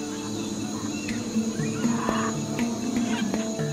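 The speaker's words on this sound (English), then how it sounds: "Insects make a constant din" A dense, steady chorus of jungle insects buzzes and trills throughout, with faint scattered calls from other wildlife in a humid New World forest setting, no voices present.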